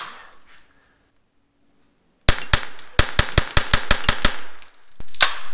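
Rapid string of sharp .22 LR shots from a Rossi RS22 semi-automatic rifle fired outdoors at a target, about a dozen loud cracks in quick succession after a quiet lead-in.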